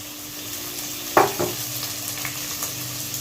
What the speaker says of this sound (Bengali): মশলাটা ভালো করে কষছি